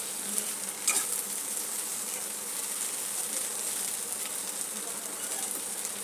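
Okra (bhindi) stir-fries in a pan over a high flame, a steady, close hiss of sizzling oil throughout, with a few brief clatters of stirring early on.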